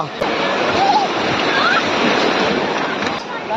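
Sea waves wash continuously onto the sand at Juhu Beach, Mumbai, a loud, broad roar of surf mixed with wind buffeting the microphone.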